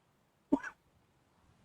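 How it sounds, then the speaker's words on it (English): A single short, sharp cough lands close into a microphone in a quiet garage, a brief throaty burst followed by near silence. "Sorry, I'm coughing down the mic."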